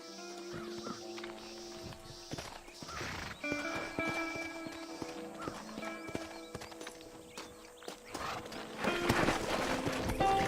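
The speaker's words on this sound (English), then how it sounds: "Horses are over here!" Horse hooves clip-clop at a quick pace in Red Dead Redemption amid game-like effects, with scattered tones and occasional bird caws, fairly quiet overall.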